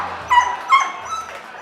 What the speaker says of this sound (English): One night, mid-performance, Beauty started barking.